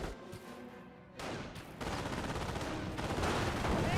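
Rapid automatic gunfire from a .30 cal machine gun in the strategy game Company of Heroes, dense bursts of fire and battle noise growing louder and busier over a few seconds, with no talking.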